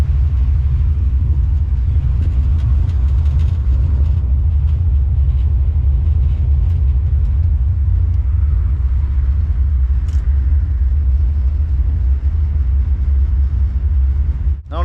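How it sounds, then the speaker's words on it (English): An old Ford Fox car idles in a shop with a hard-hitting cam, giving a loud, deep, lumpy rumble that holds steady and close throughout, ending in a brief higher whine. "I wish you guys could hear this car. It actually sounds really good. The cam hits pretty hard for what it is."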